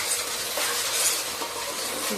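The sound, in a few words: masala sautéing in oil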